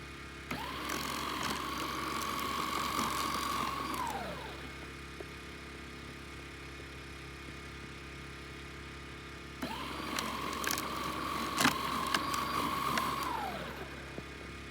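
An electric Snow Joe snow shovel runs while clearing snow outdoors, whirring steadily for about four seconds, spinning down, then starting again and running several more seconds, close and alone with no talk.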